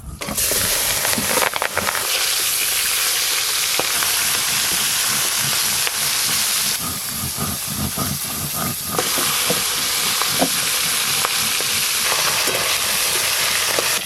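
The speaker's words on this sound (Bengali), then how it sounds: "এবার ভেটকি মাছের মাথা ভালো করে ভেজে নেব।" Bhetki fish heads fry in hot oil with a loud, continuous hissing sizzle and crackle, close up and steady, briefly easing in intensity midway before resuming, with no voices.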